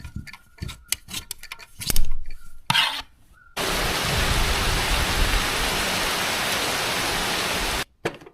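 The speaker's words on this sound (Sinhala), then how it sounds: "හොඳටම වහිනවා" Heavy rain pours in a dense, even roar for several seconds after a stretch of scattered knocks and rustling, then stops abruptly near the end.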